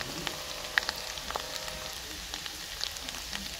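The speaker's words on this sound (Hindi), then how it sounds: "अदरक और लहसुन को अच्छे से भून लेना" Ginger and garlic fry in a pan with a steady, soft sizzle and scattered faint pops and crackles, close and continuous with no talk.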